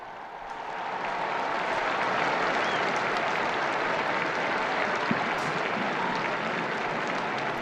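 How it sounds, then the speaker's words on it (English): A large crowd in the square below breaks into sustained, dense applause for Pope Francis appearing at the window, building quickly and holding at a steady roar of clapping. "who respond with applause as you hear"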